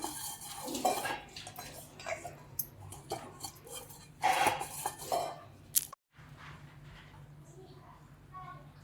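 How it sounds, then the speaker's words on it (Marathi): Metal pressure cooker containers clank and clink as they are handled and greased with oil while making ragi papad, scattered close knocks and scrapes under intermittent talking. "आता मी कुकरच्या डब्याला तेल लावून घेते सगळे दोन्ही पण डब्यांना"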